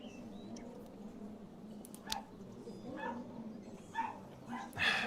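Dogs bark and yip outside in faint, scattered bursts, some distant and muffled, over a low room hum, with a few soft whimpers between.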